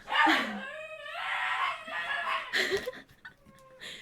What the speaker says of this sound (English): my dog barks like that